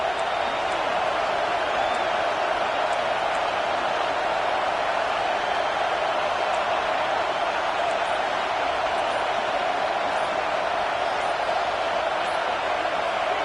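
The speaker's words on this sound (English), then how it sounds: "Man, this crowd really affecting the football game." Home stadium crowd noise in the NCAA 26 college football video game, a steady, dense roar of massed voices that holds at an even level without letup for the full stretch, with no clear individual speech on top.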